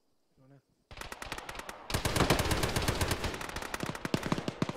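Arma ShackTac firefight: a brief voice, then a burst of rapid automatic gunfire that swells into a sustained, loud, dense stream of shots with sharp regular cracks.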